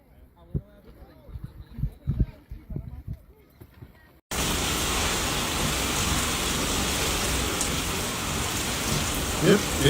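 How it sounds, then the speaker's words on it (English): Heavy rain pouring during a storm in Twentynine Palms, California, a dense loud hiss that cuts in suddenly after a stretch of quieter talking and continues steadily, with occasional louder drops near the end. "it's raining now"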